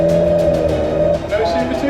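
A Vauxhall Vectra with a C20XE engine runs on a shakedown drive, its engine giving a loud, steady drone with a rising note near the end, close and continuous.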